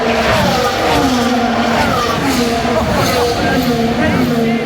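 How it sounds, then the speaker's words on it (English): Formula 1 race cars roar past at very high speed at the Montreal Grand Prix, their engines whining loudly with rising and falling pitch as they pass, the dense noise of the track filling the whole stretch. "Seeing cars fly by with speeds of 330 kilometers per hour is something any car fanatic should witness at least once in a lifetime."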